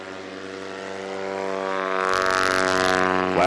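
A STOL light aircraft's propeller engine drones steadily at takeoff power, its hum climbing and growing louder with a brighter roar after two seconds, close and continuous with no talk over it.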